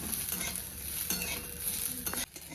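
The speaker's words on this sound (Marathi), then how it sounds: "खोबऱ्यासोबत आणखी थोडं तेल टाकून घेते म्हणजे सगळं छान असं भाजलं जात आहे" Onion and grated coconut roast in oil in a pan, a soft sizzling crackle with occasional spatula scrapes and stirring clinks, fairly quiet and close.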